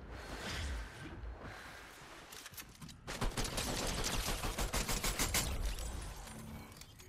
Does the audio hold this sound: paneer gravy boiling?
no